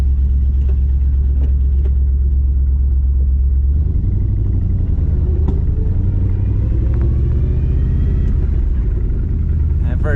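A 454 big block V8 swapped into a Honda Civic rumbles loudly and steadily on a test drive down an alley, a deep low-gear drone that shifts in pitch partway through, with faint voices underneath.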